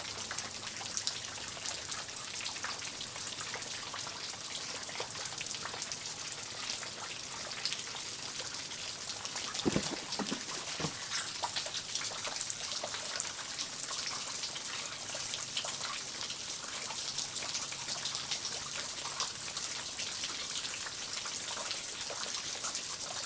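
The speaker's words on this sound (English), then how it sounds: "I just wanted to let her come see the rain because she loves the rain" Steady rain pours down on a morning outdoors near a pet capuchin monkey, with a dense, continuous hiss of falling drops and dripping water, and a few brief louder splashes midway. No one speaks.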